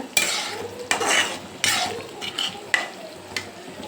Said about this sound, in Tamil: ரெண்டு நிமிஷம் நல்லா மிக்ஸ் பண்ணிக்கோங்க